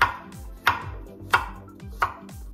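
Four evenly spaced knife strokes cut raw zucchini diagonally on a board, each a crisp close thud with a short crunchy tail, no voices.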